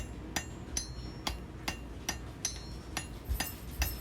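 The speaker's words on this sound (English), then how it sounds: "Light blows, just tapping it together to set the weld." A small hammer tapping a forge weld on hot steel, light, evenly spaced ringing blows about every half second, close and crisp, while a fireplace shovel handle is being forged.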